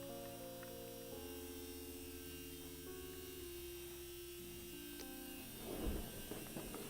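An ultrasonic cleaner runs on a board-repair bench, giving a faint, steady electronic buzz made of layered tones that step in pitch, with a brief soft rustle near the end.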